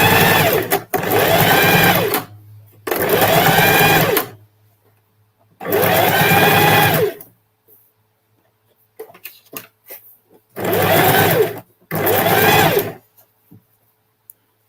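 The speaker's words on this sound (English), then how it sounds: "Run a straight stitch." A sewing machine runs a straight stitch in five loud, steady bursts of about one to two seconds each, separated by short pauses with faint handling clicks, during a sustainable sewing session.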